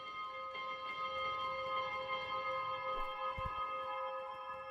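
A ship's bell in Spiritfarer rings with a long, sustained metallic tone that stays steady and fairly loud, with no one talking over it.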